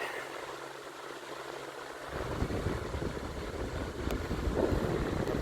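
A 1998 Holmes (Honeywell) HAHV-914 14-inch high velocity fan runs with a steady, quiet whooshing airflow, the broadband rush swelling slightly louder partway through and continuing without speech.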